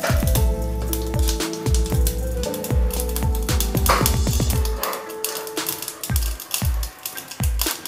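Mustard seeds splutter in hot oil while tempering for rasam, with sharp, irregular pops and crackles, dense at first then thinning out, over soft background music.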